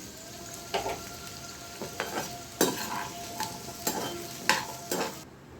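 Shallots for onion pickle sautéing in a pan, a steady close sizzle and fry with a spoon scraping and stirring in several distinct strokes; no talking.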